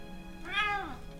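A single cat meow from the point-and-click game Christmas Stories 5: The Gift of the Magi, in a mouse-infested room; one clear, rising-then-falling cry of about half a second, alone and fairly close.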